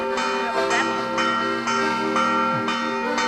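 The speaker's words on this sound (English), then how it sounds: "You can just listen to the church bell." A church bell in a Cinque Terre village rings in repeated strikes about every half second, each bright clang leaving a long humming resonance that overlaps the next, loud and sustained throughout.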